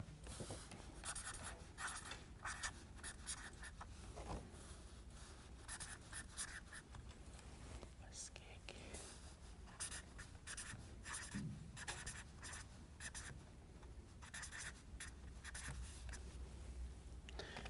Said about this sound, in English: So again, this prayer, I'm going to write it down.